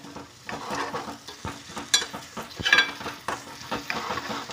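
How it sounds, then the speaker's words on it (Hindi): A curry leaf and onion mixture being stirred in a hot pan, with a steady sizzle under irregular scraping and clinks of a spoon against the metal, close and moderately loud. "ऑप्शनल है ये, कड़ी पत्ता, इसको अच्छे से मिक्स कर लेंगे।"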